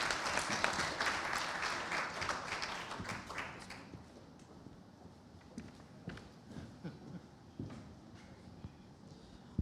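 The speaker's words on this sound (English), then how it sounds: "Let's give a round of applause." Audience applause after a startup pitch at a medtech conference in Malta, a dense burst of clapping that thins out after a few seconds into scattered, isolated claps.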